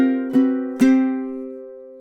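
A ukulele plays a riff from a song: two bright strummed chords half a second apart, each ringing on with sustained, slowly fading strings, close and clear with no voices.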